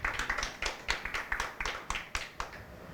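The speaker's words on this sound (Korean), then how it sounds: "큰 박수로 환영해 주시기 바라겠습니다" An audience at a Korean political talk event claps in welcome, a sparse and fairly regular run of distinct, moderately close hand claps about four to the second, with no voices over them.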